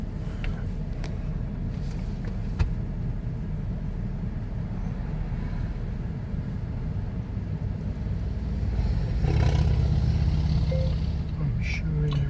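A car engine hums steadily through a test drive, a low continuous drone that rises to a fuller, louder roar toward the end as the throttle opens.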